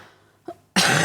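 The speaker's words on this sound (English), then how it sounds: "Try not to cough." One short, sharp cough close to the microphone, after a quiet moment with a faint throat sound.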